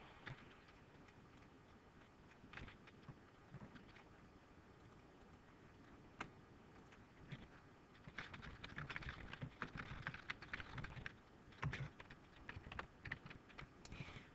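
Computer keystrokes clatter softly and irregularly while formatting text, faint and close, with bursts of quicker typing in the second half and no voices.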